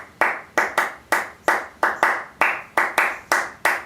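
Sharp, close hand claps sound alone in an uneven repeating pattern of quarter and eighth notes, about eleven claps in a lively, evenly accented rhythm like an Afro-Cuban bell pattern.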